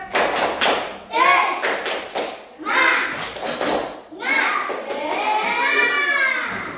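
A class of children claps in a quick rhythmic pattern, bursts of sharp claps alternating with voices chanting along, close and lively.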